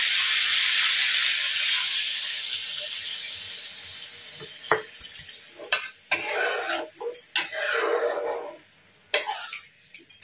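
Water poured into a hot pan while cooking paneer curry sets off a loud, hissing sizzle that slowly fades, followed by sharp bursts of crackling and clinks of stirring, with no voices.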